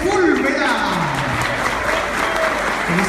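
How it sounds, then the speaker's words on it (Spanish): Audience applause for a contest winner at a Chip Foose hot rod drawing event on the 2016 Global Tour, a dense crowd clapping steadily and loudly, with a voice speaking over the clapping. "fuerte el aplauso para Francisco Javier Sepúlveda"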